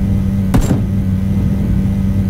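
A car engine in the game PUBG drones steadily at close range, with a brief whoosh as the vehicle passes.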